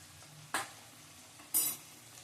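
A utensil stirs turmeric and Kashmiri chili powder in hot oil, giving two short scraping strokes with a soft sizzle beneath, close and moderately loud.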